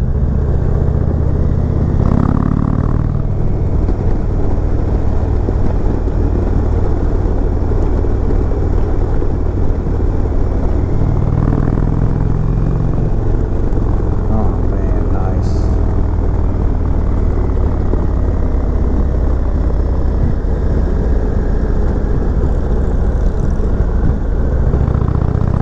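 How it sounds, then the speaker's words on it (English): Engine of a 2020 Indian Chieftain Limited motorcycle while being ridden, a continuous loud low drone mixed with steady wind rush that holds through the ride, with no speech. "This engine sounds good."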